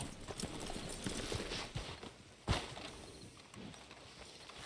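Steady clip-clop of horse hooves at a walk in the video game Red Dead Redemption 2, moderately close, with a sharp thump midway and faint background ambience.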